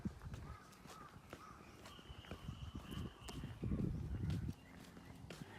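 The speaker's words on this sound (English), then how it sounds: "You could hear the birds chirping." Birds call and chirp outdoors among footsteps and low background rumble, fairly faint and scattered.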